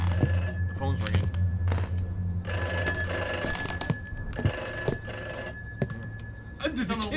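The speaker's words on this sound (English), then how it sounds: "The phone's ringing." An old telephone ringing in the horror game Summer of '58, with repeated bursts of bright bell trills separated by pauses, over a low ambient hum, with a voice speaking between the rings.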